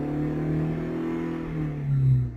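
An Opel Corsa C engine revs while parked in the evening, with a MAF sensor problem suspected. It gives a steady, close droning hum that climbs and swells louder near the end, with no voices.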